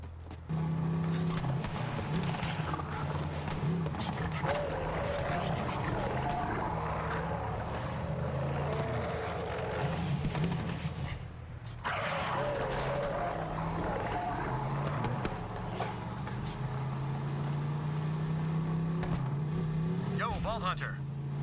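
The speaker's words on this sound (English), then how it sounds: "You enter the vehicle, you start driving around" A vehicle drives in the video game Borderlands 3, its engine droning steadily at mid volume for about twenty seconds with brief dips, while someone talks over it throughout.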